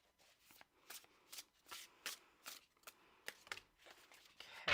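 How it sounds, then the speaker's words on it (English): Tarot cards being shuffled close by, a series of quick papery riffles and flicks in an uneven rhythm, quiet and with no talking. "I'm going to pull a relationship card for you here."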